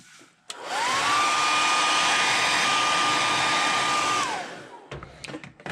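A hair dryer blows steadily on wet paint coating a crawfish crankbait fishing lure, a close, loud whooshing hum that switches on, holds for roughly four seconds, then cuts off, followed by faint handling noises.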